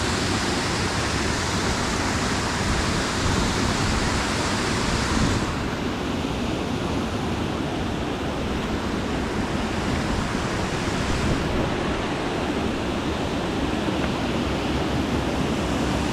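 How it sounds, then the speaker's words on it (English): Continuous rushing water pours steadily, a dense broadband roar like a waterfall, constant and fairly close with no voices. "I love the sound of running water."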